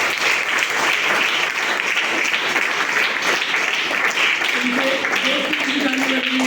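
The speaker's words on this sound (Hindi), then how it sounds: "इनके लिए जरा एक जोरदार ताली बजाइए" Dense, steady audience applause at a live movie show event, loud and continuous from start to finish, with a faint voice or tone rising underneath near the end.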